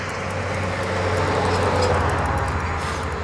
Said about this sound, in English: So the car noise you hear is on Highway 77